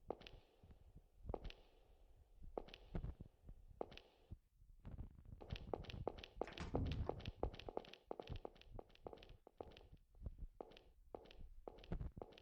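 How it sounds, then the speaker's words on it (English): Footsteps in a horror video game, a steady series of sharp close steps walking across a hard floor, with some pauses and low rumbling ambience, no talk. "Footsteps scared me."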